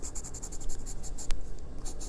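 Pencil strokes scratching back and forth on paper while shading swatches with a Staedtler H graphite pencil, a steady close run of soft rasping with one sharper scrape near the end.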